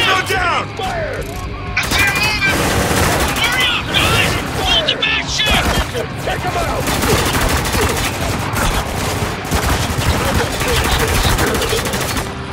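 Sustained gunfire in a Spec Ops: The Line firefight: dense bursts of automatic fire and single shots crackle continuously at close range, with shouted voices under and between the shots.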